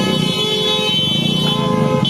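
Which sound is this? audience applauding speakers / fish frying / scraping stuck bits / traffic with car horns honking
traffic with car horns honking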